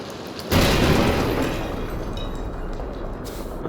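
A grenade detonates in the horror game Amnesia: The Bunker, a sudden loud boom followed by a long rumbling roar that slowly fades.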